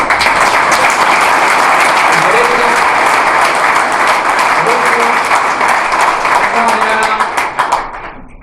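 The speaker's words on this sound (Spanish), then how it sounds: "aunque el aplauso es siempre gratificante y emociona" Sustained, loud audience applause fills a hall at an official political party presentation in Spain, dense clapping continuing steadily before thinning out at the end.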